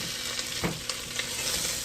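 Onions sautéing in a pan with crushed garlic for a South Carolina-style Sunday dinner, giving a continuous close sizzle broken by a few soft stirring knocks, with no talking.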